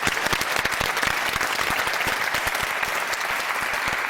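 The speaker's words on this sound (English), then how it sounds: "it deserves another round of applause." Sustained studio audience applause on a televised debate show, dense even clapping from a large crowd with no talk over it.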